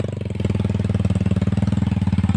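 A trail motorbike on a muddy off-road track near Sumedang runs hard and close, its engine pulsing in a rapid, even beat that swells into a strong rev midway and holds loud to the end.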